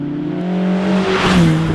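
A Lotus Exige S1 sports car drives steadily on a somewhat busy road, its engine droning close and loud with a rising rumble and broadband road noise swelling toward the end.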